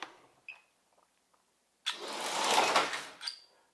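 A slot car fitted with an iWheels Challenger body whirs down the track, a brief rising electric motor buzz that swells for about a second and fades, preceded by a few faint clicks.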